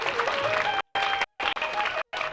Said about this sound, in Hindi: उनके लिए एक बार जोरदार ताली बजाइएगा।